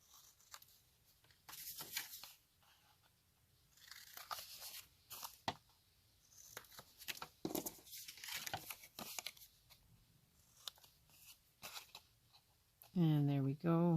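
Quiet snips and crinkly rustles of paper journal tags being trimmed with scissors, scattered and intermittent, with a brief voice at the very end.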